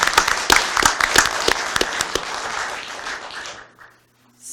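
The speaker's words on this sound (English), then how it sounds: "All right, we can clap now." An audience at a county commission business meeting applauds an employee of the month. Sharp individual claps stand out at first, then merge into a moderate, steady clapping that fades out near the end.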